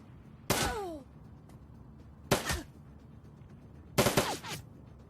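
Automated gun turret in the video game Shadowrun: Dragonfall firing three separate loud bursts about two seconds apart, each a sharp blast with a ringing, ricocheting tail.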